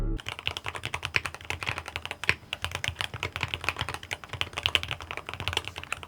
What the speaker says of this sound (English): typing on this keyboard feels really good. Here's a little quick sound test for you.